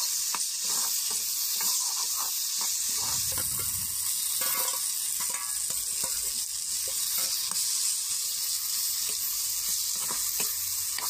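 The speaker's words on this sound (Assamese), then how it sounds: "আদা নহৰু পেষ্ট যিখিনি মছলা জালুক জিৰা আছিলে সেইখিনি এবাৰ এনেকৈ আলুখিনিৰ লগত মিলাই ভাজি লৈছে ধুনীয়াকৈ" Potatoes fry with ginger-garlic paste, cumin and spices in a pan for fish curry, giving a constant loud sizzling hiss broken by scattered stirring knocks and scrapes, with no talk.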